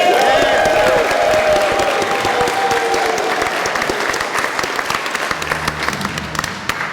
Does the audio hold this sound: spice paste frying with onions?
no